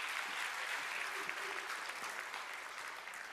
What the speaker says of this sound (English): Another round of applause for our volunteer.